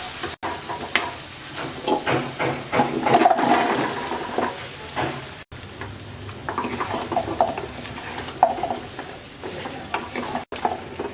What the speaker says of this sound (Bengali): এবার জলপাইগুলোকে মশলার সাথে ভালো করে মিশিয়ে ডেকে রান্না করব